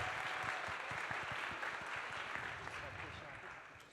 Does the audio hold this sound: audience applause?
yes